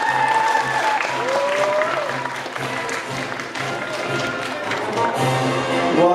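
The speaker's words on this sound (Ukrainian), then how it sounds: "Ваші оплески не вщухають, розповідаються сильнішими і сильнішими" An audience applauds a church folk ensemble at a Christmas concert in Lviv, a sustained wash of clapping with a voice speaking over it at times.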